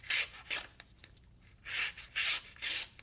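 A Leatherman Skeletool multi-tool's 14C steel blade slices through material in five short rasping strokes, the first two close together and the last three longer and louder, with quiet pauses between and no talking.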